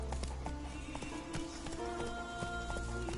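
A horse's hooves clip-clop in a quick, regular rhythm while its rider urges it on, with loud close hoofbeats and some rattling tack over a low background rumble.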